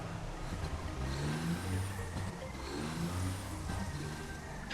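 A vehicle in the video game Satisfactory drives a path on autopilot with a steady, moderate engine drone whose pitch rises and falls slightly as it moves, and no talking.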